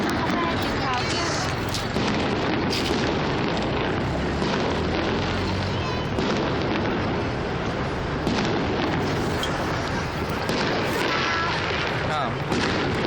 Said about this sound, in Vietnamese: Pháo hoa nổ to nhất.